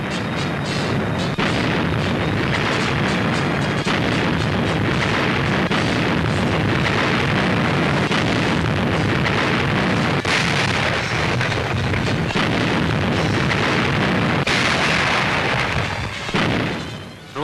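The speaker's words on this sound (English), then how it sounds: "it was after darkness had fallen that our heavy naval guns opened fire." Heavy naval guns bombard Bardia at night, a dense, continuous rumble of booms and blasts that stays loud for the whole stretch with no voices over it.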